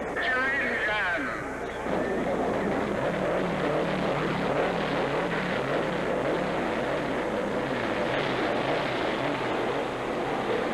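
Race car engines fire up on the grid at the Indianapolis Motor Speedway for the 1969 Indianapolis 500, merging into a loud, continuous roaring drone after a brief moment of voice at the start.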